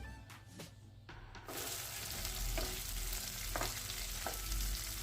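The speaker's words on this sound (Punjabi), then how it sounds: "ਫਿਰ ਆਪਾਂ ਤਕਰੀਬਨ ਇੱਕ ਵੱਡਾ ਪਿਆਜ਼ ਉਹਦਾ ਵਿੱਚ ਕੱਟ ਕੇ ਵਿੱਚ ਪਾ ਦਿੱਤਾ ਤੜਕੇ 'ਚ" Chopped onion and ginger fry in hot tempering oil for Punjabi kadhi. A quieter start gives way to a steady, close sizzle with light stirring scrapes.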